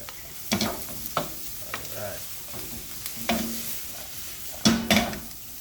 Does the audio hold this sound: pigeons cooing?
no